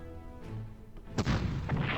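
Artillery fire in the war strategy video game Panzer Corps, with a low rumble followed by a sudden loud booming blast that rolls on for the rest of the short stretch.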